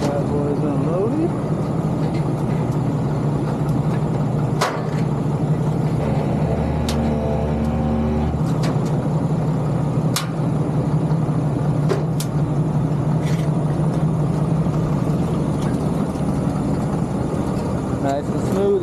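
Police cars idle and creep off a tow hauler with a steady, low engine rumble throughout, while a person talks over the engine noise.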